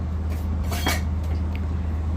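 A metal kadhai holding desi ghee is set down in a home kitchen, giving a brief clatter and scrape of metal on a hard surface over a steady low hum, with no talking.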